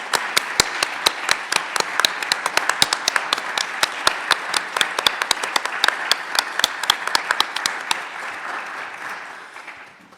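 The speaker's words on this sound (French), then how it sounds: "Donc merci à eux et tous nos applaudissements aussi" Audience applause at a doctoral contract award ceremony: dense, steady clapping from a roomful of people that holds evenly for about ten seconds, then thins and fades at the end.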